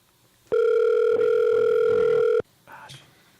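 A telephone line gives off one loud, steady electronic tone lasting about two seconds, then breaks off, followed by faint background sounds and a brief murmur of talk.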